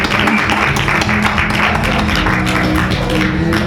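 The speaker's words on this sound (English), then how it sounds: "Please give a round of applause." Audience applause at a live monologue and song performance, a dense, steady wash of many hands clapping at full loudness that fills the whole stretch without pause.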